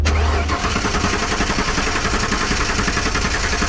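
A 1995 Ford one-ton truck's 5.8 L 351 V8 cranking steadily with a no-start fault, the starter churning in a fast rhythmic chug without catching, loud and close for several seconds.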